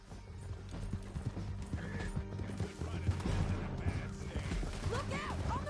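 Horses galloping in Red Dead Redemption 2, rapid clip-clop hoofbeats with a whinny, under game music, effects and shouted voices.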